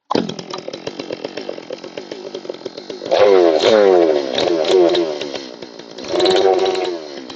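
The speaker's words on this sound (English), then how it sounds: "having that brake on and hitting the throttle will tighten up the clutch so it doesn't come off" A G111 clone chainsaw idles with a rapid popping putter, then is revved hard twice with the chain brake on, the engine whining up in two loud bursts close by.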